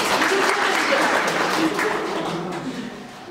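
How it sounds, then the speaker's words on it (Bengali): Group clapping in a yoga education course session at a B.Ed. college, a dense steady round of applause from the room that gradually tapers off over a few seconds. "হাততালি সবার জন্য।"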